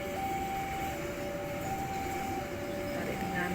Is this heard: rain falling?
no